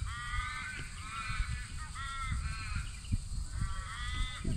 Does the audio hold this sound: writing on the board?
no